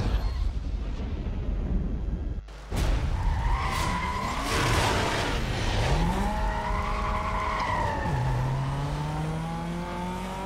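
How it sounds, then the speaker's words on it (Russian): A Chevrolet Cobalt in the racing game Need for Speed Most Wanted revs and accelerates loudly, with rising engine tones, repeated tire skids and squeals, and a brief crash-like break near the start. "Мне нравится тоже мотор, вот на данном этапе, как звучит у Кобальта."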